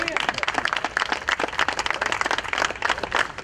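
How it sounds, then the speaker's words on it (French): An audience applauds in tribute at a memorial gathering for Raoul, with dense, continuous clapping close by and voices mixed in throughout. "Oui, on peut les applaudir."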